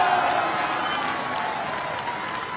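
A large crowd at a political rally about demonetisation claps in support. The applause is a loud, dense, continuous wash of hands mixed with crowd murmur, easing slightly over a few seconds.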